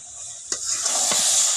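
Panch phoron spices dropped into hot oil for a chalta pickle, a bright, steady sizzle that swells after a sharp clink of the spoon, close and without voices.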